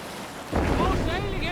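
Wind and sea surge around a boat sailing in the video game Assassin's Creed Valhalla, the rush swelling suddenly after a quiet start, with a voice calling out toward the end.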